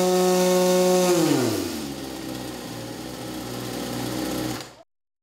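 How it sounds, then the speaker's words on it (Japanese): A VF63AS portable fire pump engine runs loud and steady on its own, the revs dropping from a high whine to a lower idle after about a second, then shutting off abruptly near the end. "エンジンを始動します。"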